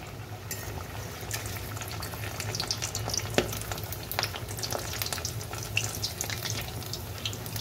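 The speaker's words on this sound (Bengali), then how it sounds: "এটা তেলে ভাজবো, দেখি কীরকম হয়। তেলটা গরম হয়ে গেছে, তেলে আমি দিয়ে দিলাম।" Semolina and sago luchi drop into hot oil and fry with a steady, moderate bubbling sizzle under a low background hum, continuous for several seconds without any voices.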